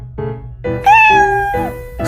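A cat meows several times in a row, the calls rising and falling in pitch, close and clear with short pauses between, the longest cry drawn out in the middle.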